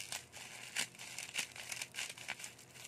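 Thin plastic packaging crinkling as a UV umbrella is unboxed, a close series of crisp rustling bursts with no talking.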